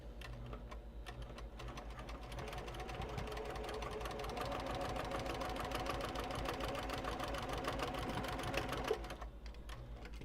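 A sewing machine stitches car trash cans inside a bus on the road. It gives a steady, fast mechanical whir and rapid clatter that runs continuously at moderate level over a low hum, with no talking.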